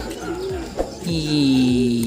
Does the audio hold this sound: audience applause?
no